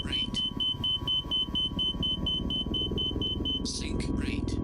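In an F-14 Tomcat flight simulator game, a cockpit warning beeps in a rapid, steady series of short high tones over a constant engine rumble, with voice-like warning bursts near the end.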